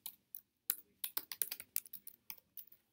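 Typing on a computer keyboard, with a quick run of crisp, uneven key clicks in bursts over a few seconds, heard close up without any talk.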